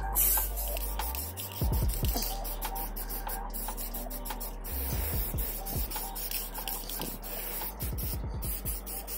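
An aerosol can sprays primer onto a rusty brake part in bursts of hissing spray, broken by short rattles of the can's mixing ball between passes, close and loud.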